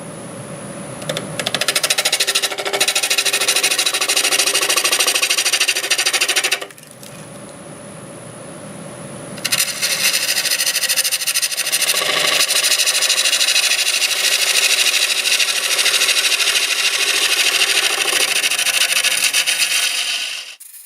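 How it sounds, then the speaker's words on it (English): A half-inch bowl gouge cuts mesquite on a wood lathe spinning at 800 RPM, giving a loud, steady scraping rasp that breaks off briefly in the middle and then carries on to the end. "Switch into a 1/2 inch bowl gouge. We're doing 800 RPM."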